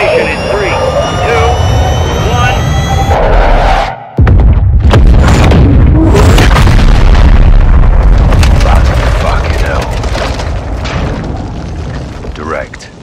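Airstrike in the Modern Warfare II video game, a loud roaring jet pass that cuts off sharply, then a heavy booming explosion with rumbling debris that slowly fades, while voices talk over it.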